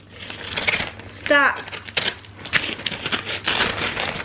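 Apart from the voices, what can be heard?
wrapping paper being ripped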